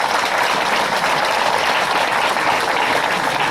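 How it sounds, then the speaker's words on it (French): Loud, steady applause from an audience at a ceremony for young volunteer communicators, dense clapping that carries on unbroken without a pause. "que je vous demande d'applaudir très fort"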